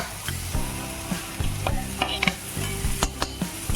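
Chicken soup ingredients and chopped onion fry in a pan, a constant sizzle broken by a regular run of spatula taps and scrapes against the pan, close up and without talk.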